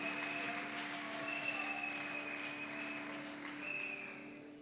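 A church congregation applauds the Lord in steady, sustained clapping that fills the space, with a few tonal hums underneath and the applause easing slightly toward the end.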